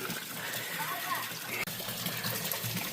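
Water rushes and splashes steadily as a catfish tank on a fish farm is filled, a continuous gushing hiss close by.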